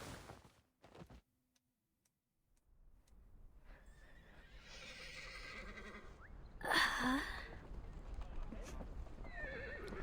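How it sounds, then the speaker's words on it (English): Dozens of horses neigh and whinny together in the video game Reverse: 1999, a distant, echoing chorus rising over a low ambient background, with some clip-clop and a louder swell midway. "The sound of dozens of horses neighing at once echoes from somewhere far away."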